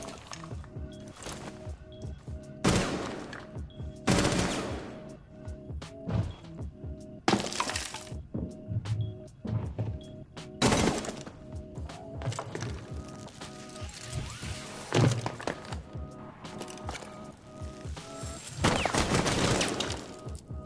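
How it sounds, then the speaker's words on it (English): Gunfire in the Rainbow Six Siege video game: repeated loud bursts of shots, some with breaking glass and debris, separated by quieter gaps across the stretch, with faint voices now and then. "masking the sound cues with gunshots worked out pretty well"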